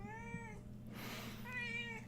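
A cat lets out two drawn-out meows close by with a short gap between them, over a low steady indoor hum.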